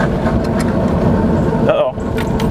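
Lawn mower engine of an HM-Vehicles Freeway three-wheeler running behind the driver, a loud steady mechanical drone with rattling under a speaking voice.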